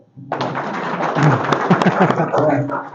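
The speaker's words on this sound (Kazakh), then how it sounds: "Дұғыл шапалақ." Audience applause at an evening gathering of tender specialists, a dense wash of clapping that rises quickly and holds steady at full strength, with some nearby thumps mixed in.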